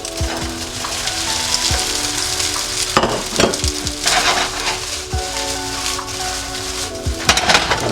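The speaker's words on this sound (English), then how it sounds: "Now I'm gonna add my rice." Rice fries in a hot pan with garlic butter and chopped garlic, giving a loud, steady sizzle and crackle with occasional scraping stirs, and no talking.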